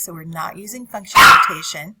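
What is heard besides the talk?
dog barking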